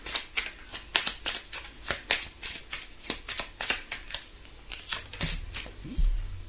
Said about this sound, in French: On va tirer maintenant une carte avec la deuxième partie.